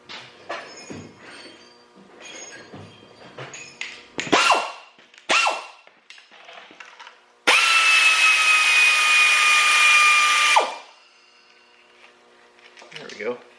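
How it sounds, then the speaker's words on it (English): A loud air compressor kicks on beside a 1987 Toyota Corolla under repair, roaring steadily for about three seconds with a rising whine, after clanks, shop noise and talking; speech picks up again afterward. "What's better than no air compressor?"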